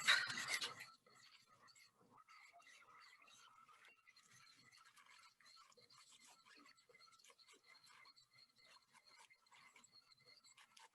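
A whisk stirs a thin batter of Indian taco dough mixed with water in a bowl, giving a steady soft scraping and rasping that runs continuously after a brief louder start.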